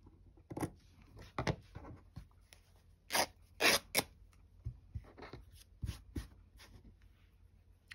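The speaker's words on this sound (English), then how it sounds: "I love how this linen rips, it's great." Linen fabric torn by hand, a series of short, sharp ripping bursts, close and distinct, separated by quiet pauses.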